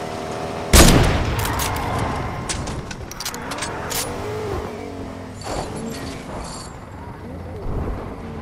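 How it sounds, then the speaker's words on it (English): A car driving in Fortnite, its engine running steadily under busy gameplay noise, with a sharp bang near the start and players talking over it. "Who's driving the car, Blue?"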